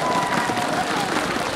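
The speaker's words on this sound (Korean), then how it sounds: "박수 보내주시면 고맙겠습니다." Audience applause at an outdoor welcome ceremony for the 2017 Wando International Seaweed Expo, a dense continuous wash of clapping from a large crowd with some murmuring voices mixed in.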